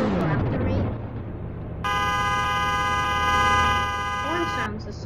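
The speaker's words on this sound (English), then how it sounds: "Horn sounds the same." A car horn honks in a Roblox driving video game, a steady sustained blare lasting about three seconds over engine and game noise, with a voice talking around it.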